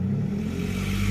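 A Pontiac G6 convertible engine, back from years in storage, revved with a bad exhaust leak, giving a loud, steady rumbling roar with a rough edge that runs the whole time.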